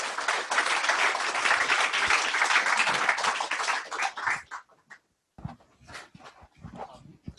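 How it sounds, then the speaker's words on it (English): Audience at a Bay Area Apache Kafka meetup gives contributors a round of applause: dense, steady clapping for about four and a half seconds that quickly thins into a few scattered claps and faint room noise. "I just want to give them like a big applause,"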